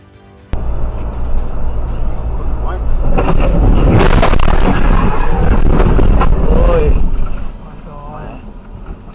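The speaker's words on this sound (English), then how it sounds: "The explosion was so powerful that it felt as though the air itself decided to give everyone a shove." A powerful explosion bursts in abruptly, a loud broadband roar that swells to a peak and rumbles on for several seconds before fading, with wind-like buffeting over it.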